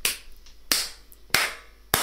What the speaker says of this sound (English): that is me applauding my own return